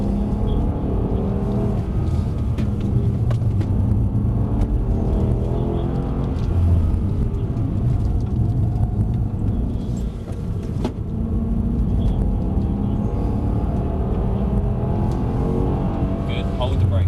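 A Mercedes C63s AMG on the track at Mercedes-Benz World, its engine rumbling and rising steadily as it drives and accelerates, while an instructor talks over it.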